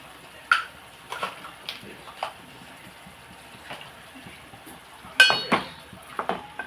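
Green chillies and salt are mixed in a pot for a brinjal dish, giving a few scattered metallic clinks and scrapes of a spoon against the pot over quiet background hiss.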